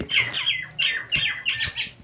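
A bulbul in Nepal gives a run of five or six harsh, squawking calls in quick bursts, close and fairly loud, with faint low background noise and no talking.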